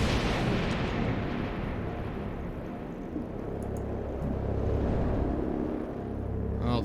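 Gunfire at a turret in XCOM Chimera Squad: a loud, dense barrage of heavy booming shots and rumbling blasts running continuously throughout, close and full.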